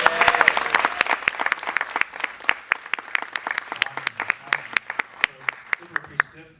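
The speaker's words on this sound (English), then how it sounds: "round of applause" An audience at a keynote talk gives a round of applause that starts as a full burst, then thins into scattered, individual claps that space out and fade over several seconds.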